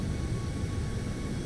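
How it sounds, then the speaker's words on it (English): Steady airliner engine drone in the iFly 7 flight simulator, a constant broadband roar with no variation, moderately loud and alone. "This is our plane right here."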